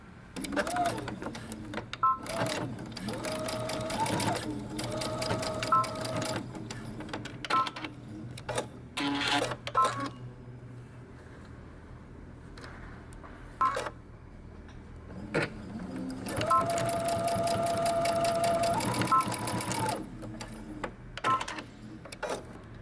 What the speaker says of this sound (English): we're going to stitch it using 5/8 of an inch seam allowance